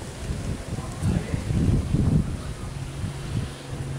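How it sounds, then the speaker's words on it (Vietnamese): Wind picks up as a thunderstorm approaches in the Mekong Delta countryside, a steady blustery rumble buffeting the microphone and rising in gusts near the middle, with a voice speaking underneath. "bây giờ trời đang chuyển mưa giông quá"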